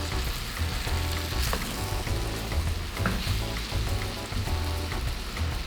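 Chicken and green beans frying in a pan as tomatoes are stirred in, producing a continuous dense sizzle with light spoon scrapes throughout and no talking.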